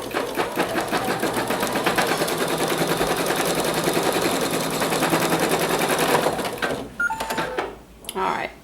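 An embroidery machine stitching an owl mug rug gives a loud, rapid, continuous mechanical chatter for about six seconds before stopping, with children's voices and talk faintly in the background.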